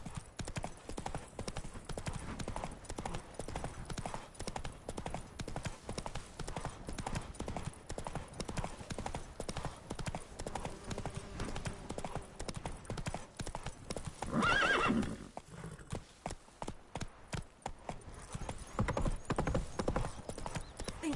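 Hoofbeats of a horse in The Witcher 3 clip-clop steadily through the scene, with a whinny breaking in near the middle, all over a busy game soundscape.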